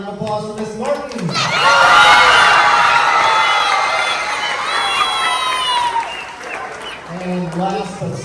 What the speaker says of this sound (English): And a round of applause for Miss Martin.